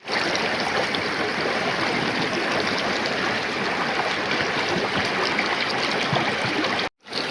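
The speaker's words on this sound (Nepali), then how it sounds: "अहिले हामी यो भेरी नदी छेउमा छौँ सुसाउँदै गरेको पानी" Rushing water of the Bheri river between Jajarkot and Rukum in Nepal, a loud, steady, close roar that fills the whole stretch, with a brief cut near the end.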